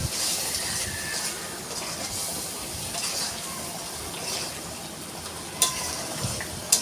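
Masala paste fries in oil with a continuous crackling sizzle, broken by the scrape of stirring and a few sharp utensil knocks near the end.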